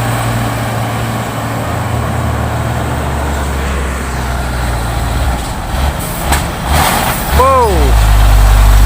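A Hino trailer truck straining under a long load, its deep engine rumble steady and loud, rising and shifting near the end with a whine, while a man exclaims briefly over it.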